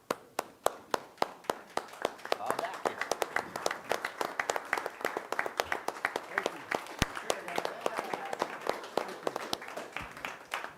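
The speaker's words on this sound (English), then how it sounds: "give these people a round of applause" A standing audience at a city council meeting claps: a few distinct, evenly spaced claps build into sustained, dense applause that carries on for about ten seconds, heard from within the room.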